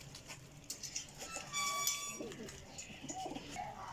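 Flying pigeons of the chappi type cooing intermittently nearby, with brief sharp noises and a faint voice mixed in at moments.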